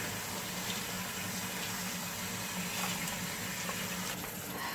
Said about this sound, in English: Let's rinse with water that won't burn my skin off.